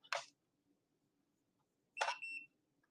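Electronic beeps from a printer powering up: two separate short tonal bleeps about two seconds apart, the second slightly longer, in an otherwise quiet room.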